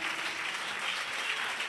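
A church congregation claps together in sustained, dense applause that fills the room evenly for a couple of seconds.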